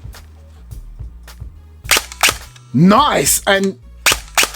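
Specna Arms SA-H21 Edge 2.0 airsoft rifle on semi-auto, firing a few crisp, snappy pops in short pairs, with a brief spoken remark between the shots.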